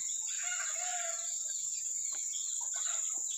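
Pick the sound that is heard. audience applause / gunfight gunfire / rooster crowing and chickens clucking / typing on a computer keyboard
rooster crowing and chickens clucking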